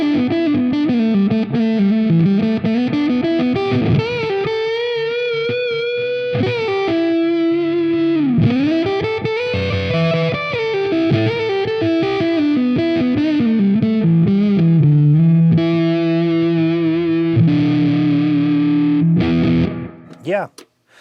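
Guitar run through a Warm Audio Foxy Tone Box octave fuzz pedal, playing a continuous, loud distorted melodic line with sustained, gliding notes and thick breakup, ending with a quick cutoff.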